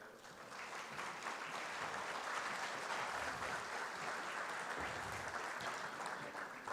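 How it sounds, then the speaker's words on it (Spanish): Continuous clapping from a sizeable audience at a law conference, dense and even, building slightly and holding steady at a moderate distance. "Y brindamos un fuerte aplauso también"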